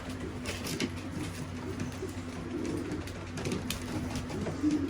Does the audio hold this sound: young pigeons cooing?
yes